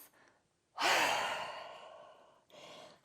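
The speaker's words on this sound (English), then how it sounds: "And as you exhale, we're breathing out through the mouth." A long, forceful exhale out through the mouth during a yoga breathing sequence, a loud breathy rush that fades slowly, bracketed by softer breaths before and after.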